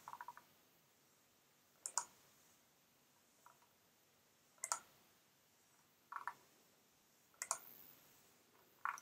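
Computer mouse clicking through product list pagination pages, sharp isolated clicks, often in quick pairs, spaced a second or two apart against a quiet background.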